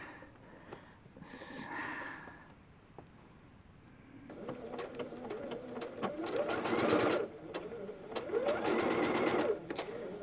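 A sewing machine stitches a 1/4 inch seam, its motor whirring in rapid rhythmic bursts that speed up and pause, close and clear with a few faint clicks and light handling noise before and between runs.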